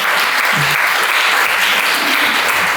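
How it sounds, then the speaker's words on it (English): A crowd at the Hickory Hill School celebration applauds loudly and continuously, a thick close wash of clapping with no pause. "Yes, we can applaud for that."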